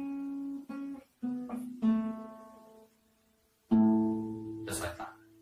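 Electric guitar riff whose repeat resolves on the second string from the top, a few plucked notes ringing and decaying, then a short pause before a final sustained note closes the phrase.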